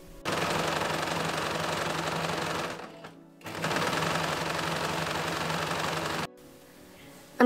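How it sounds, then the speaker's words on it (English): A sewing machine stitches long basting lines across fabric tiers for a petticoat. It gives a close, rapid mechanical rattle in two sustained runs separated by a short pause, then goes quiet. "I will sew 2 lines of basting stitches to the top of each tier"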